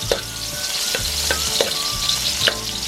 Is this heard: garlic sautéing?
yes